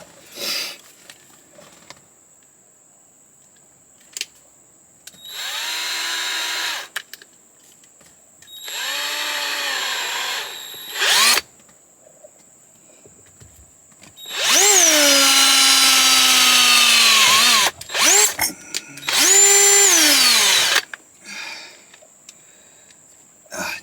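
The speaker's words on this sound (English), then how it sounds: "Start drilling, I guess." A power drill whirs in several separate bursts, rising and falling in pitch as it bites, with quiet pauses between runs.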